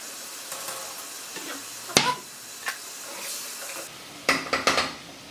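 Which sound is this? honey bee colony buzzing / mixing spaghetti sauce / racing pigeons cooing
mixing spaghetti sauce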